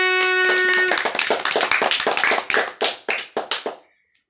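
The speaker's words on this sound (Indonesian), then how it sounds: "Tepuk tangan kepada temannya." Schoolchildren in an elementary classroom clap for a classmate, a ragged burst of many small hands with sharp, uneven slaps that gradually thin to a few scattered claps before stopping.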